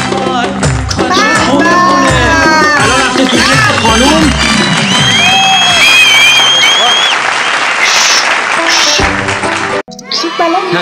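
An audience applauds at a comic stage performance, with dense, sustained clapping and crowd noise throughout, while a voice and some whistles carry over it. The applause cuts off sharply near the end.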